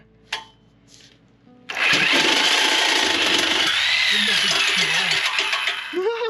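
After a few quiet knocks, a power saw roars into a loud, sustained cut through a car exhaust pipe during a Ford Fiesta ST exhaust install, its grinding whine rising and falling while people talk nearby.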